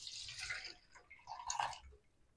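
Plain water poured into a container in a home kitchen, a short trickling splash that pauses and then returns in a second brief burst, close and fairly quiet.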